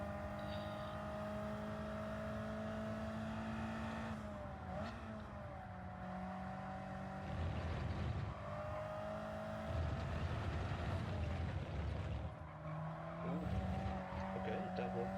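Race cars including a Honda NSX in Gran Turismo 7, engines droning loudly and steadily with rising revs, tire squeal and skidding, under intermittent talk.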